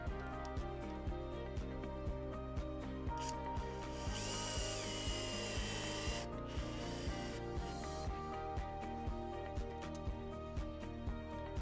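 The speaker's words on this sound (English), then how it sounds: "And then screw it on the wall." Power drill driving screws to mount a sauna heater bracket onto a wall, a steady whirring drone with regular ticking pulses and a brief higher-pitched stretch midway.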